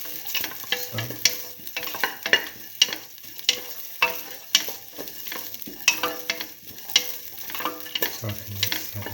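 A spoon stirs ginger, green chili and salt through a sizzling split mung bean and tomato stew in a pan, with steady frying hiss and repeated close scraping and clinking strokes.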